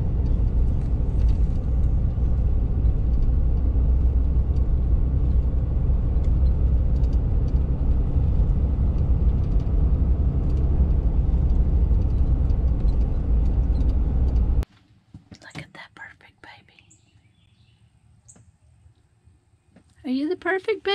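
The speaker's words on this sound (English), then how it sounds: "I love to drive under the trees like this." A car drives along a tree-lined road in a state park with a loud, steady interior road rumble that stops abruptly partway through, leaving quiet with brief voices.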